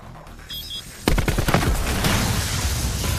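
Gunfire in Black Ops IV: after a quiet lead-in with a faint beeping tone, a loud burst of rapid automatic shots erupts near, then continues as dense, rattling fire with a few sharper cracks.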